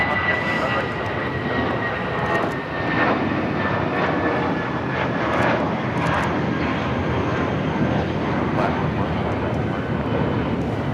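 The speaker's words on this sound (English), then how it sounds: "We have a Viva Special taking off." Viva Aerobus Airbus A320 taking off at Los Angeles International Airport, a loud, sustained engine roar heard from a distance with steady rumble, voices talking faintly underneath.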